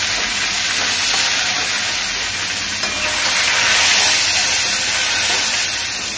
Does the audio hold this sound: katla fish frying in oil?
yes